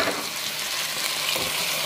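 Raw potatoes tipped into hot cooking oil and stirred in a pan, a loud, steady sizzle with scraping stir movements running throughout.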